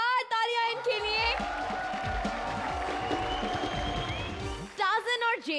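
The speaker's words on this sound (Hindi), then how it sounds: "जोरदार तालियां इनके लिए।" Studio audience applause and cheering swell for a few seconds at the finale of the Comedy Circus TV comedy show, with a host's voice just before and after the clapping.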